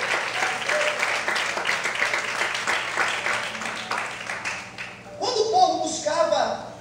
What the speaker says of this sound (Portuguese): Aplauda o Senhor e glorifica a Deus.